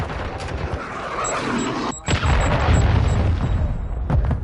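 Cruise missile explosion in a video game, a loud continuous roar of blasts and booming impacts with a sharp break midway, then a heavy rumbling detonation that carries on to the end.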